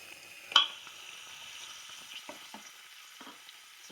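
Chopped tomatoes dropped into a pan of cooked onions for egg masala curry, a sharp clatter followed by a faint, steady sizzle with occasional soft stirring scrapes, close and quiet.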